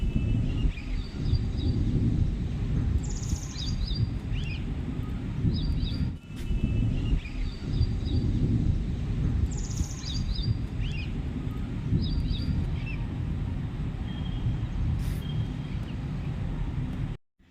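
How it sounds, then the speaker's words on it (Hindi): Birds chirp in the early morning after overnight rain, with repeated short bright calls and trills at moderate distance over a dense, steady background rumble of wind or distant noise. "इस व्लॉग की शुरुआत करते हैं सुबह सुबह से चिड़ियों की चहचहाने की आवाज़ के साथ"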